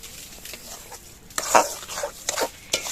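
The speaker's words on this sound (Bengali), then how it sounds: "এবার এর মধ্যে আমি 1 বাটি চিনি দিয়ে দিচ্ছি।" Sugar being stirred into a pan of cooked-down chukai fruit and tomatoes, giving soft scraping and stirring strokes in irregular bursts, close and moderately loud, with no talking.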